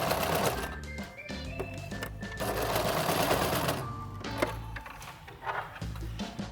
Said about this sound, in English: Now I need to sew my 1 centimetre seam allowance around the collar edge